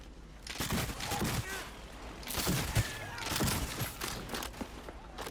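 Scattered gunshots ring out in the Cyberpunk 2077 video game, a few soft bursts of fire spread over several seconds and set fairly low against background game sounds.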